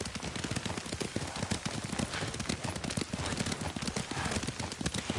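Hooves of a ridden horse in a video game clip-clop in a quick, steady gallop rhythm, close and continuous throughout without any talk.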